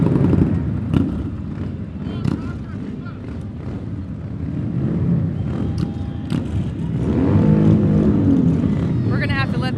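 Loud motorcycles roaring past in a 2007 Fourth of July parade in North Carolina, a continuous engine rumble that builds toward the end, with wind buffeting the microphone and people talking over it.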